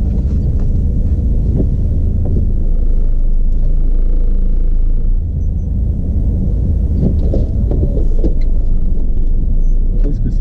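Car crawling at walking pace in traffic toward the motorway, with a low continuous engine and road rumble and some wind noise filling the cabin throughout.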